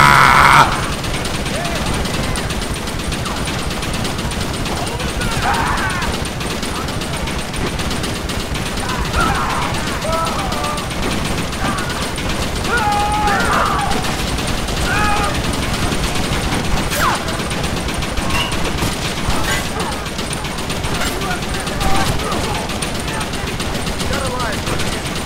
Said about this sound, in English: Use the Gatling gun.